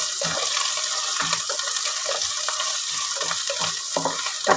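Ginger garlic paste fries in hot oil with a steady, close sizzle throughout, while a spoon stirs it in short repeated scraping strokes, with no talking.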